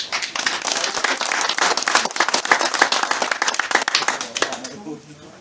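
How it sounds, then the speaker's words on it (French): An audience applauds the club at a gathering after a brevet ride in the Diois, brisk dense clapping with sharp individual claps close by, loud and sustained before trailing off at the end. "Donc on peut applaudir le club."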